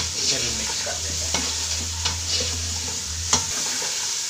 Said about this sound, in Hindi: अभी अच्छी तरह से इसे भी मिक्स कर देंगे।